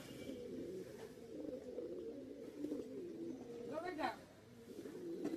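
Rampuri Pakistani pigeons, including a black-and-sugar male, coo and murmur close by in a low rolling burble, with a brief brighter flutter of calls partway through and steady background noise.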